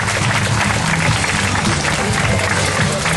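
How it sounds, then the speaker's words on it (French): A crowd applauds a vintage car at the Béthune Rétro 2009 rally: dense, loud, continuous clapping from many hands, close and sustained throughout. "Vous applaudissez cette voiture"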